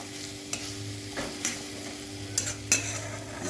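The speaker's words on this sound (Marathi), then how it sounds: "हिरवी मिरची लसूण घातलेली आता ह्याच्यात हे छान परतून घ्यायचं।" Green chili and garlic sizzle and get stirred in hot oil with turmeric and onion, a soft steady frying hiss broken by several sharp scrapes and clinks of the spoon against the pan, close up, no talking.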